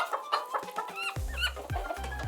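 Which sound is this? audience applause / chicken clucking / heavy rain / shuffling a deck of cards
chicken clucking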